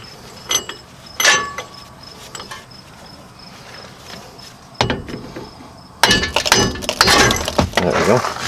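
Metal hammer strikes on the wheel hub and axle of a first-generation Nissan Titan, a few sharp separate clanks followed by a denser burst of banging and ringing metal, loud and close.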